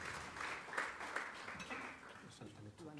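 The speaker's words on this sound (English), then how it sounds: "Can we give ourselves a round of applause?" A stakeholder roadshow audience in Durban gives a brief round of applause, fairly quiet and distant, the clapping blending with murmuring voices for a few seconds.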